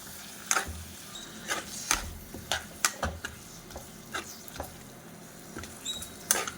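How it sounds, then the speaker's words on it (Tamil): Chicken being sautéed in a pan with ginger and garlic, a quarter kilo of pieces for a chicken gravy, with scattered scraping stir strokes and light ticking clicks over a soft frying hiss. "ஒரு கால் கிலோ சிக்கன் எடுத்து வச்சுருக்கேன் அதில் போடுறேன் போட்டு நல்லா வதக்கிடணும்"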